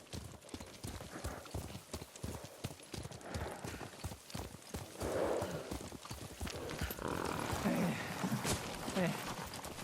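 Horse hoofbeats in the video game Ghost of Tsushima, a steady rapid clip-clop of a ridden horse at pace throughout, with a brief whinny and voices talking over the galloping.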